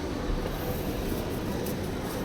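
A Kolkata metro train gives a steady, broadband rumble that stays at an even level throughout, with no voices over it.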